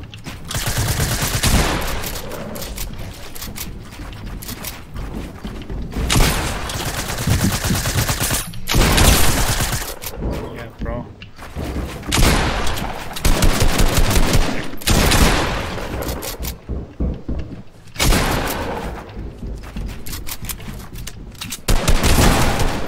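Dense, continuous Fortnite gunfire rattles loudly through a 1v1 match, with rapid bursts and volleys running almost unbroken and only brief dips between them.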